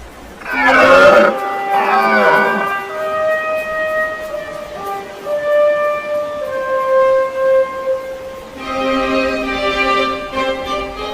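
Deep, drawn-out red deer stag roars echo one after another, some strained and breaking, others long and tonal, carrying as if across open mountain slopes in autumn.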